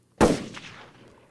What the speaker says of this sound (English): Can you hear these gunshots?